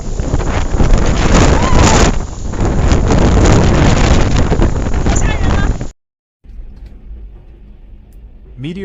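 Strong wind in China under high wind alerts roars and buffets hard against the microphone for about six seconds, breaks off briefly, then returns as a quieter, rumbling gust.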